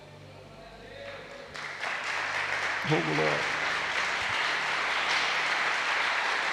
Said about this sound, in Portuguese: as palmas bem alegres para Jesus